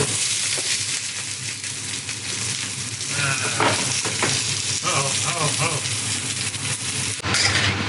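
Onions and vegetables fry in a pan with a steady loud sizzle, joined by stirring scrapes and clatters throughout.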